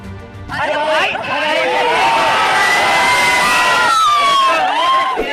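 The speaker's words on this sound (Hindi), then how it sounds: "आप यहाँ पर देख सकते हैं कितना हल्ला हो रहा है।" Loud crowd of fans at a Khesari Lal Yadav event shouting, whooping and cheering continuously, a dense roar of many voices close by with shrill high-pitched cries rising over the babble throughout.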